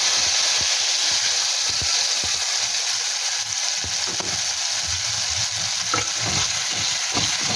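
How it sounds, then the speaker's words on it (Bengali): A tomato, cashew and poppy seed paste sizzles steadily in hot refined oil over low heat, a loud continuous fry with repeated scraping stirs of a spoon close by. "নেড়ে নেব, হালকা আঁচে ভালো করে নেড়ে নেব।"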